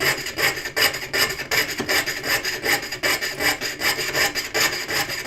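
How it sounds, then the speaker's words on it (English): Hand saw cutting through wood, with loud, close, rhythmic back-and-forth strokes that repeat steadily with no talking. "I'm finding that I'm sawing a little bit more easily than I did the first time"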